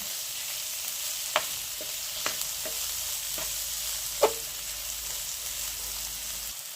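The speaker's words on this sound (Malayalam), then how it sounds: "തക്കാളിപ്പഴം കൂടെ ഇട്ട് നന്നായിട്ട് വഴറ്റി." Chopped tomatoes sautéing in a pan for Kerala-style prawn roast: a steady close sizzle punctuated by several sharp, irregular clacks of a spoon stirring against the pan.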